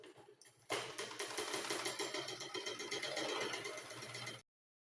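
A sewing machine runs steadily while stitching the side seam of a blouse, a fast even mechanical whir with rapid rhythmic ticking that starts abruptly, holds for several seconds, then cuts off, close and quiet.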